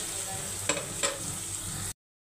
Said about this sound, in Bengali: তার জন্য পেঁয়াজ চুলায় বসাইছি